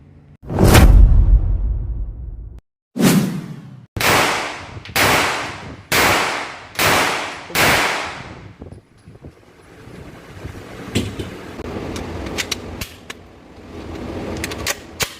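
A CZ Scorpion Evo gun is test fired, with a loud blast followed by a rapid series of six sharp shots with short gaps between them, then faint scattered clicks and rustles in the open air.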